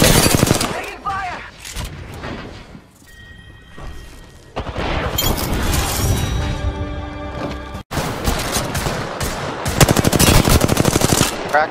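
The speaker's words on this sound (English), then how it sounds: "Taking fire." Automatic weapon fire from an Apex Legends match: rapid bursts of machine-gun shots and loud booms, dense and close, broken by a short lull before heavy firing resumes.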